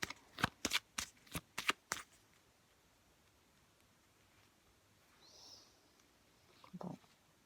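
A deck of tarot cards is shuffled in a quick burst of about seven crisp riffling strokes, close and clear, then the room falls quiet apart from a faint rustle and a soft handling sound near the end.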